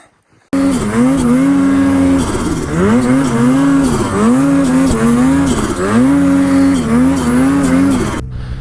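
A snowmobile engine revs hard and steady while being driven out of a packed snow tree well, its pitch rising and falling in surges over several seconds before cutting off.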